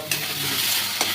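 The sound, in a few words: mustard paste sizzling as it is added to the pan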